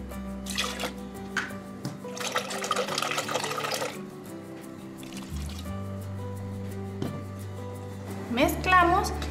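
Green sauce being poured into a blender jar, a thick wet trickle and dribble in uneven bursts, with a steady low hum underneath and a closing gurgle as the liquid settles.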